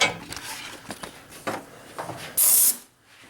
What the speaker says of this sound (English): I decided that I'm gonna blow it out with this compressed air.